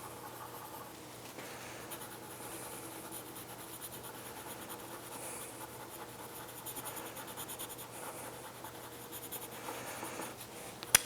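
Coloured pencil shading lightly over watercolour paper, a soft continuous scratchy rubbing with small irregular strokes, close and quiet.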